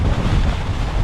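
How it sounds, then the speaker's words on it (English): Strong Antarctic wind buffeting the microphone in a steady, loud low roar with gusty rumbling, no voices present. "I can't walk and point because it's too windy"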